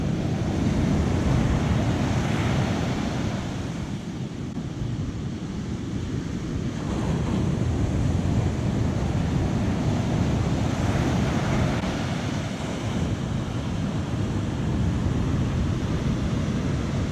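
Ocean surf rolls and breaks steadily on an Outer Banks beach, a continuous loud wash of waves mixed with gusty wind buffeting the microphone, with no talking.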